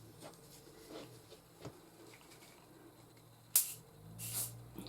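Glue sprays from an aerosol can held in the air in a quiet room, with two short sharp hissing bursts near the end, close but fairly faint against a soft background.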